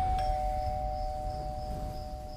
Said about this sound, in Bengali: ঠিক তখনই দরজার কলিং বেলটা বাজল।